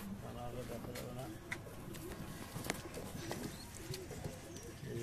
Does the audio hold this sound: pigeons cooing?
yes